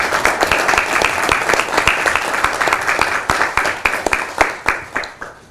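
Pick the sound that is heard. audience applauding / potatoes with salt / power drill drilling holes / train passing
audience applauding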